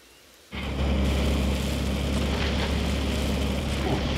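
Rain beginning to fall in the video game Empyrion: after a quiet half-second, a dense, steady hiss of rainfall with a low rumble switches on abruptly and holds loud and even to the end.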